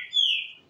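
A single clear songbird note from a pet bird kept for singing, a brief bright whistle that rises and then slides slowly downward, close and clean against a quiet background.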